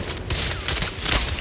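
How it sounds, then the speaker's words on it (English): Gunshots in the video game Zenless Zone Zero, with an enemy sniping from a distance: a dense, loud wash of rapid fire and booms filling the whole moment, with no talking. "Watch out for Grim Vulture taking shots from afar."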